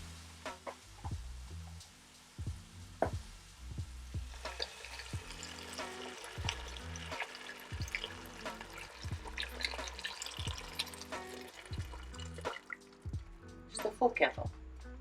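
Boiling water from a full kettle pours and splashes into a pot for seafood chowder, a steady liquid rush with drips and clinks over low rhythmic kitchen thumps, while a person talks.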